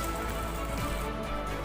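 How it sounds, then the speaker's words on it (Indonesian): Heavy rain drumming steadily on a tent at camp post 5 on Mount Lawu, a dense, constant roar heard from inside the tent during a big storm. "Sementara hujan di luar turun dengan sangat deras."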